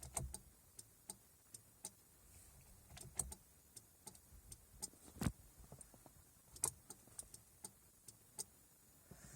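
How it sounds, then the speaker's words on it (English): A relay in a turn signal repeater for a car ticks in a quick, steady series of sharp clicks, close and fairly quiet over a faint background hiss. "There is a relay here that keeps clicking"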